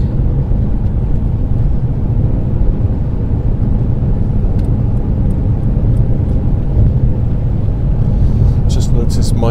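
A car accelerates along a dual carriageway on the road from Dover to Margate, giving a steady, loud low engine and road rumble with wind noise and a faint click near the end; someone talks over it.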